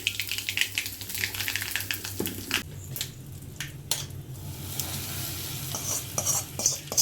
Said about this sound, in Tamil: கடுகு போட்டுக்கிட்டு இது பொரியட்டும்